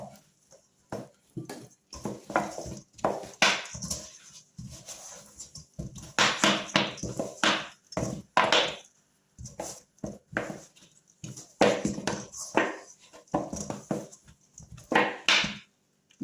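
Homemade fondant worked by hand on a surface, giving close, steady runs of soft slaps, squishes and presses in an uneven rhythm, with no voices over it.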